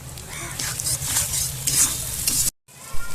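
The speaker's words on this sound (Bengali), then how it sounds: "সবজির যে পেস্ট আমি করেছিলাম সেটা ঢেলে দিলাম" A thick vegetable paste hits a hot pan with loud sizzling and frying, stirred steadily, then a short break before sizzling resumes.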